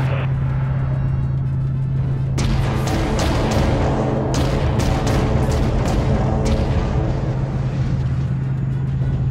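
Primary weapons firing aboard a spaceship in the Dreadnought video game: a steady low engine drone runs throughout, then from about two seconds a series of loud, repeated booming blasts and bursts piles on top of it.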